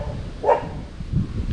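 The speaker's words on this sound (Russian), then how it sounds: "Собака залаяла." A dog lying behind a gate gives a single loud bark close by, followed by quieter low rustling and movement.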